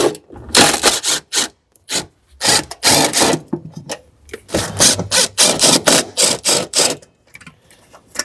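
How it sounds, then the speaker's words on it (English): A cordless drill fitted with a 10 millimeter socket backs out bolts holding a car amplifier in a Tesla Model Y, in loud, close, irregular bursts with short pauses between. "I've got my 10 millimeter on my cordless drill here."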